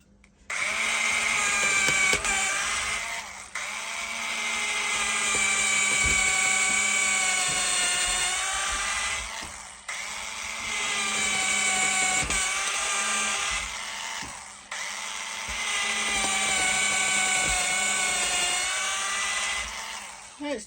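A small Makita 4.8V cordless drill spins a tiny 3–3.5 mm bit, its steady high whine running loud and close in three long bursts with brief dips between them.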